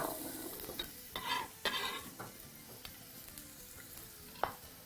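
Onions frying in a pan of hot oil, with a steady sizzle broken by several sharp scrapes and clinks of a utensil stirring against the pan, close up and without talk.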